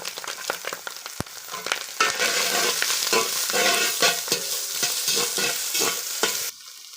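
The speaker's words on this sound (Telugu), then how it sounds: "సన్నగా కట్ చేసేసుకున్న ముక్కల్ని ఇందులో వేసేసుకుంటే చక్కగా ఫ్రై చేసేసుకోవచ్చు" Sliced beans, carrot, capsicum and green chilies fry in a pan with a steady loud sizzle, punctuated by repeated scraping stirs and clinks, and the sound changes near the end.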